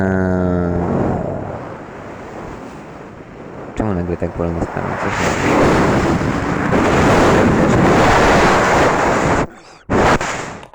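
Gusts of wind blow in a video game, a loud, broad roar that builds over several seconds and cuts out briefly near the end. Someone speaks over the opening.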